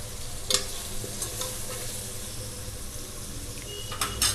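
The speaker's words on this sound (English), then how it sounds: "now we have to mix all of them well." Fish curry ingredients for Andhra village-style chepala pulusu being stirred in a pan over a low flame, with close scraping, stirring clatter and a soft sizzle under a steady background hiss; a few sharper scrapes stand out, and no one speaks.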